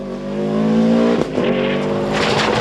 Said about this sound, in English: They end up just over a minute behind the hard-driven Sierra of Kieran Shaw.